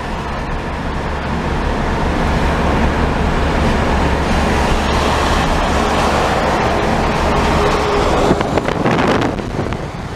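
The air-cooled flat-six engine of a 1963 Chevrolet Corvair Monza drones steadily throughout, mixed with rushing wind and road noise at a constant level.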